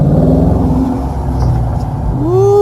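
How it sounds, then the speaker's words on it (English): A car revving and drifting in a snowy parking lot, its loud engine rumbling and rising in pitch near the end as the revs climb; no speech over it. "I am gonna try to do a couple little drifts"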